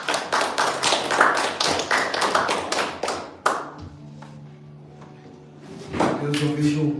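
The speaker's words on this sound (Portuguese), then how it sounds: "Vamos aplaudir o Senhor." Church congregation clapping in praise during a Brazilian evangelical service, a burst of fast, dense hand claps for about three seconds that stops abruptly, followed by quieter room sound and a voice speaking near the end.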